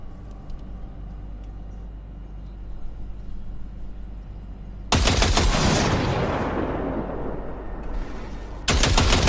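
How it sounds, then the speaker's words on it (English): A short burst of automatic gunfire in the video game Cyberpunk 2077 bursts in after a low, rumbling ambience, loud and close. The rapid shots ring out and fade into a long decaying tail, then a second burst begins. "Fire a short burst into it."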